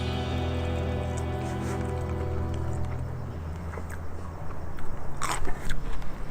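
Crispy whiting fillets dusted in flour, turmeric and coriander are bitten into and chewed, giving crunchy, crackling bites that grow louder near the end after a tonal hum fades.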